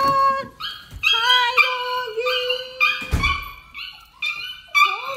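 A dog whimpers and yips in a string of high, wavering cries and short yelps, close by and fairly loud.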